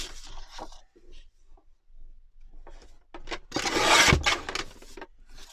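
A paper trimmer slices through paper for a junk journal. It makes a few short scraping rubs, then one louder rasping cut near the end, close and clear with no speech.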